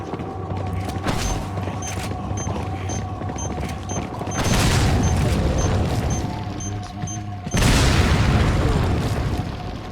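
Bombs detonate in Resident Evil 4 as a run of heavy booms and bursts, with big blasts near the middle and again toward the end, surrounded by clattering debris and mechanical creaks.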